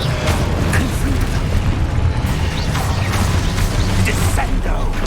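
A Confringo spell blast in Hogwarts Legacy: a dense, loud rumble of explosive bursts and crackling debris fills the whole stretch, with several sharper hits rising out of the continuous roar.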